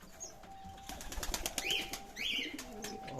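Ornamental birds such as pigeons or doves in an aviary: faint, scattered soft calls and short fluttering wing flaps against a quiet background.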